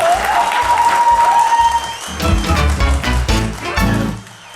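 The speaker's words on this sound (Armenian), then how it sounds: "բարձր ծափարություններ տաղավարում" Loud studio applause from a television game show audience, many hands clapping in a dense burst that swells, holds for a few seconds, then fades, with a sustained tone at the start.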